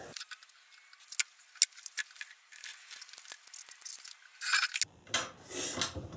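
Sanding a homemade wooden trash can cover, irregular scraping and rubbing strokes with sharp clicks and bumps, close by and fairly quiet, ending in a few longer rasping passes.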